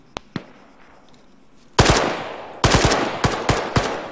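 AK rifle gunfire in the Arma 3 military game: two sharp single shots, a pause, then loud close bursts of rapid automatic fire with echoing tails.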